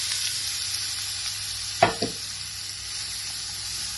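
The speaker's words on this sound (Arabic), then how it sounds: "انزل عليهم بالبصلة" Onion frying in butter in a pan, a steady even sizzle throughout with a couple of sharp spatula knocks midway, close and moderately loud, no one talking.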